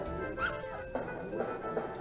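Puppies in the video game Earthworm Jim 2 give a few faint, short yips and whimpers under game noise and background sound, spaced irregularly.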